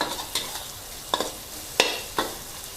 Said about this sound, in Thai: ผัดกระเทียมให้เหลืองหอมให้กุ้งแห้งมีความหอมหอม โชยๆขึ้นมาก่อน